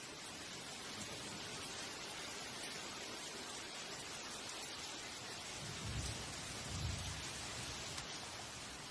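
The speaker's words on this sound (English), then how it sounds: "The rain starts pouring down, like a harsh welcome to the real world." Heavy rain pours down in a tropical forest in Thailand, a steady dense hiss with low rumbles of thunder rising briefly near the end.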